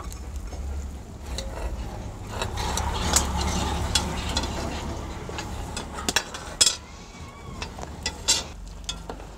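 A spoon stirs a pot of hudut continuously, with scraping and clinking against the pot, faint sizzling and a few sharper knocks along the way. No one speaks.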